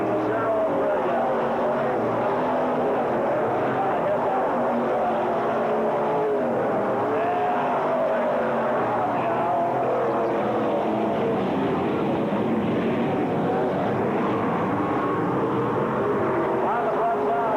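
WISSOTA race cars roar around the North Central Speedway track in a steady, loud engine drone that swells and fades as they pass, with an announcer calling the race over the top.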